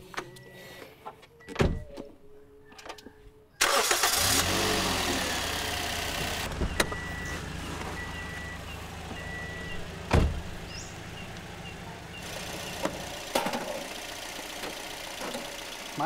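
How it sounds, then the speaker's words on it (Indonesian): A car engine is cranked by the starter and catches with a sudden loud onset, then settles into a steady idle with a few clicks and knocks around it. Quiet rustling comes before the start. "Saya ingin jajal coba di starter meneh,"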